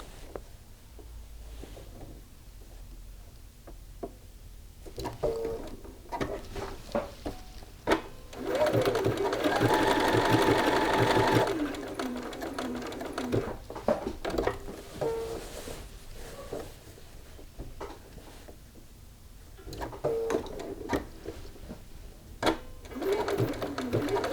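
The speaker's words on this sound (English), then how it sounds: "now we need to sew back up across the other buttonholes." A sewing machine stitches across garment buttonholes in short bursts of fast whirring, with a longer continuous run in the middle, separated by quiet pauses and small clicks, heard up close.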